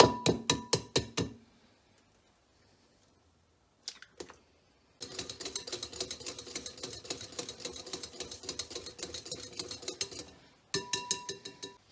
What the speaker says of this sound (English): Now we need to beat in 2 eggs. I'm just going to use the manual whisk for this